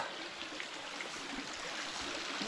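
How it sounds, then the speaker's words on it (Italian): A mountain stream in Friuli rushes steadily on its way toward a waterfall, a constant close gurgling wash with no voices. "ora arriviamo a un bivio dove dritto seguiamo il torrente e andiamo a vedere la cascata"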